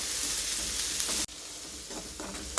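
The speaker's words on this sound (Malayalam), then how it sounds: "ഇനി അതിലേക്ക് നമുക്ക് മുറിച്ച് വെച്ചിട്ടുള്ള സവാള ചേർത്ത് കൊടുക്കാം. എന്നിട്ടത് നന്നായിട്ടൊന്ന് വഴറ്റാം." Sliced onion sautéing in a pan for a homemade curry, a steady close sizzle with soft stirring scrapes and a brief drop in the hiss midway, no voices.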